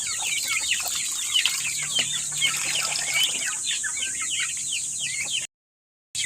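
Backyard pet chickens cluck steadily and close by, a busy overlapping chatter of hens with some rooster-like calls, continuing without pause until a brief dropout near the end.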